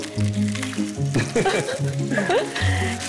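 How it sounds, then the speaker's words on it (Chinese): Fish fries in a pan in a home kitchen, with a soft, steady sizzle running under people talking. "你來教媽媽煎魚"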